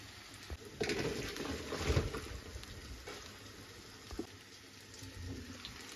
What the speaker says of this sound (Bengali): এই যে আমার এগুলো সিদ্ধ হয়ে গেছে, পানিটা ঝরিয়ে নেবো এখন।